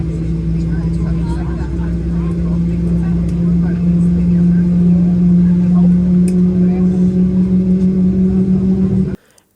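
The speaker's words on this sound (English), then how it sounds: "we push back, start our engines" Twin engines of a United regional jet spool up after pushback, a loud steady low drone with sustained tones that holds evenly throughout before cutting off abruptly near the end.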